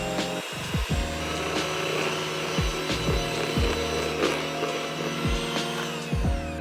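Almond flour bun dough for keto cheeseburgers mixed with an electric mixer, which runs steadily and close, its pitch dipping and recovering now and then as the dough loads the beaters.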